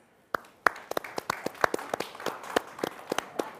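A small studio audience on a Dominican television talk show claps in a sparse, uneven patter of distinct hand claps, fairly quiet and close, without speech over it.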